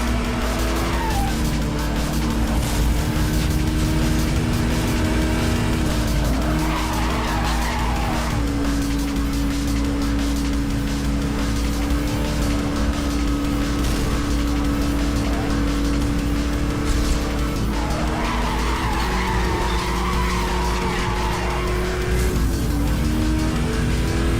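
Sports cars race in Need for Speed Hot Pursuit, with a lightweight Corvette's engine droning steadily throughout and repeated tire skids and squeals rising over the continuous loud roar.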